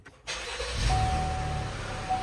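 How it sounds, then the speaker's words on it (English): A GMC Acadia engine cranks and starts, then settles into a steady idle with a faint whine, close by, no talking. "And let's turn on the car."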